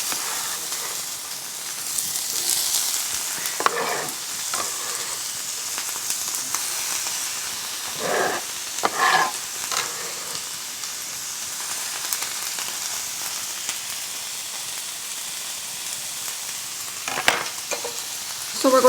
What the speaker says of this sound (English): we're going to stir fry these for about, 3 or 4 minutes or so